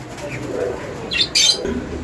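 Pigeons coo softly in a low murmur, and a couple of brief bursts of wing flapping rise up near the end.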